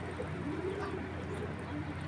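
Old-breed Giribaz tournament pigeons, an original Sapchila pair flown for three to four hours, coo softly in low, steady murmurs beneath nearby talk.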